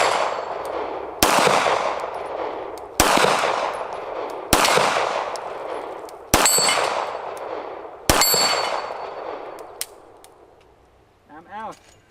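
HK P30 9mm pistol firing 20 rounds outdoors, heard as five loud, evenly spaced shots, each with a ringing clang off a steel target and a long decaying echo, then quieter handling at the end.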